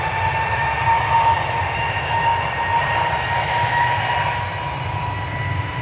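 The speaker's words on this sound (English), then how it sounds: "EasyJet A321neo going to Bristol." An easyJet Airbus A321neo jet airliner bound for Bristol at Amsterdam Schiphol's Polderbaan gives off a steady, loud engine roar with a low rumble and a faint constant whine, heard alone without voices.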